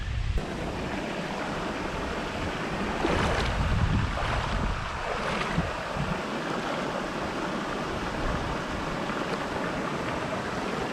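A creek runs beside a waterfall campsite in the bush of Northern New South Wales, giving a steady, close broadband rush of flowing water that continues unbroken for the whole stretch.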